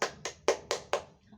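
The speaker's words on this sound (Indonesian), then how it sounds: "Oke, tepuk tangan untuk kelompok 3." Five sharp, evenly spaced bursts of hand clapping from students in a classroom, close and distinct, fading out after the last beat.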